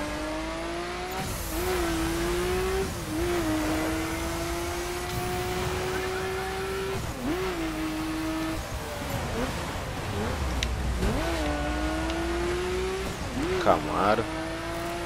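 Camaro in The Crew video game droning and revving continuously, its engine pitch rising and falling through gear shifts with occasional tire squeal, steady and moderately loud throughout.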